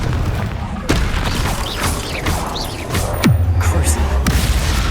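Confringo blasting spell going off in Hogwarts Legacy, a dense run of booming impacts and bursts layered with combat effects and a deep rumble swelling near the end, loud and continuous.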